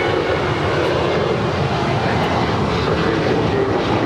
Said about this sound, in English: That is United 1737 departing to Austin. It's a 737-800.